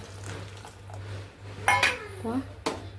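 A spoon stirs milk in a metal pot as lemon juice is added while making homemade paneer in a kitchen. A few close metallic scrapes and clinks sound over a low hum, and a person talks briefly.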